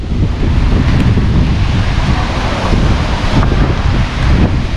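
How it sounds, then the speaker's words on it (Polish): Big sea waves and a strong wind at the seaside town of Darłówko, Poland: a loud, unbroken roar of surf with heavy wind buffeting the microphone, with no voices. "Fale duże, wiatr ogromny."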